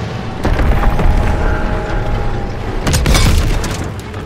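A tank cannon fires in Call of Duty WWII: a deep booming blast over a constant heavy rumble of engine and mechanism noise, followed by a second broad burst near the end.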